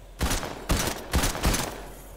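Gunfire from a new weapon in the video game Fortnite, four loud, sharp shots in an uneven rhythm, each with a short decaying tail, standing alone with no talk.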